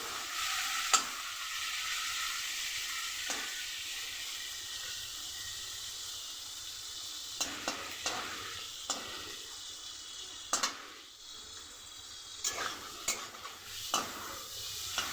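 Prawns seasoned with turmeric and salt fry in a pan under a continuous soft sizzle, broken by repeated sharp scrapes and clicks of a utensil stirring them, close up and without talk.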